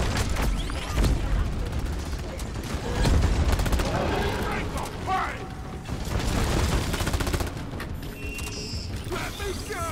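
Sustained automatic gunfire and mechanical clatter from the co-op shooter Deep Rock Galactic, a dense, continuous barrage with creaking machinery and effects, while players talk over it throughout.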